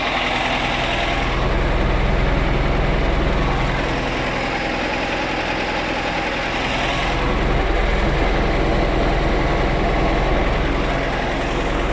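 A T-74 crawler tractor's diesel engine drones steadily as the machine drives, a heavy low rumble that swells slightly around the middle and again near the end, close and continuous with no talking.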